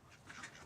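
Domestic ducks quacking faintly in a flock of about forty, a short soft burst of calls heard from a distance.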